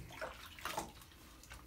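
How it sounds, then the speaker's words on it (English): Shower water runs and splashes while a dachshund gets a bath, a quiet, uneven patter with a few brief louder splashes, heard close and without talk. "sausage dog in the shower"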